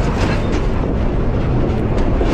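A train rolls past at speed beside the track, a loud, steady roar of wheels and cars with rumbling low end that fills the whole stretch without a break.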